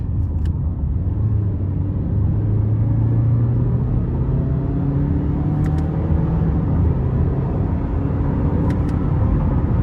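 A 2011 Toyota Camry LE accelerating in sport mode with manual shifting, a steady low engine and road rumble inside the cabin with faint rising tones and no talk.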